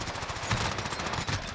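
Rapid automatic gunfire from the Call of Duty Warzone video game, a dense burst of shots with a couple of louder cracks, loud and continuous through a short gulag fight, no talking.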